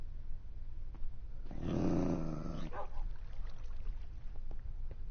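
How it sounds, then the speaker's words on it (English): Minecraft game dog growling and attacking, a short snarling burst of about a second over a low steady background hum, with no speech. "Help me, I'm getting attacked by a doggy."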